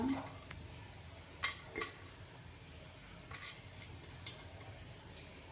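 Cinnamon and cloves sizzle softly in a pan of hot oil while making masala for sambar, with a few sharp metallic clinks and taps standing out over the steady hiss.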